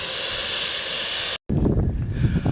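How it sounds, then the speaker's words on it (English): Steam locomotive No. 119 venting pressure from its steam dome, a loud, steady roaring hiss close by that cuts off abruptly and gives way to lower rumbling and ambient noise. "Number 119 is letting off some steam pressure from the steam dome"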